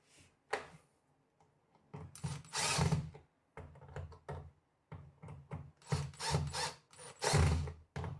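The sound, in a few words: screwdriver unscrewing electrical outlet plate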